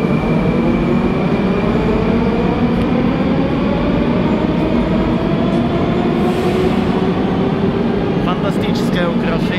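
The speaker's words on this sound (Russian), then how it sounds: "Одна из новых веток, новые составы ходят. Станция Киевская московского метрополитена." A new Moscow metro train at Kiyevskaya station gives a loud continuous rumble with rising whine tones as it moves along the platform, steady and close throughout.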